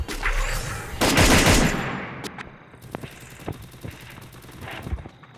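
MP40 submachine gun firing in a video game, with a loud opening burst of rapid shots followed by a string of sharp, scattered gunshots and more bursts.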